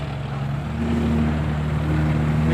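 A farm tractor engine approaches to pull a dump truck stuck on a road, its loud, steady low drone running continuously with no voices.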